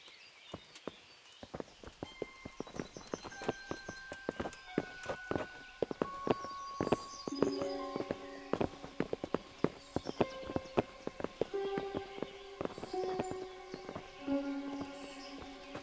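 Horses' hooves clip-clop steadily on hard ground in the medieval role-playing video game Kingdom Come: Deliverance, with a dense, irregular run of close, sharp knocks, plus faint tonal ringing and background ambience.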